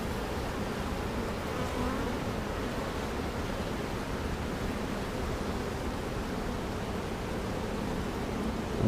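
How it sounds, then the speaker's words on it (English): Honeybees buzz steadily at a hive entrance as they return carrying pollen, a dense continuous drone close by with no voices. "Some bees bringing in some very nice pollen."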